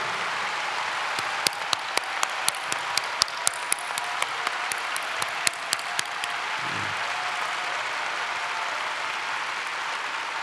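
Audience applause at an indoor gathering: a steady, even wash of many hands clapping runs throughout, with a few sharper individual claps standing out in the first half.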